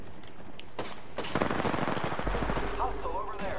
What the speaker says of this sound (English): They're still shooting over there?